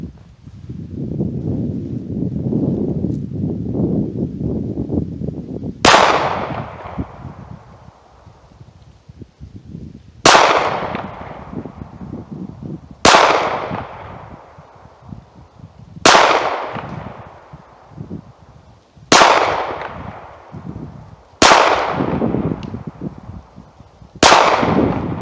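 Six sharp gunshots from a Ruger LCP pistol fired outdoors, spaced a few seconds apart with wind noise and rustling between, each a loud crack with a short decaying tail.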